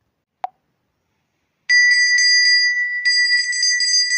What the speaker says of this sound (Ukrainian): Дзвіночок.